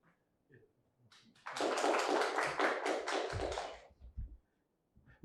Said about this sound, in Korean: 여러분 박수로 맞이해 주세요